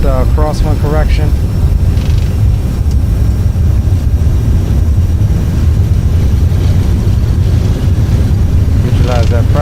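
Aerosoft CRJ700 jet engines spool to takeoff thrust in a flight simulator, a loud, steady low roar filling the whole stretch, with a voice talking over it at the start and end.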